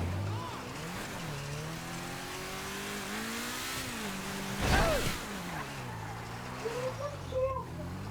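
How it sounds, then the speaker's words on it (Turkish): A car engine in the video game GTA V drones and revs, its pitch rising and falling steadily, with a short tire screech midway and engine surges near the end. "En sevdiğim şeylerden biri motor ezmeyi."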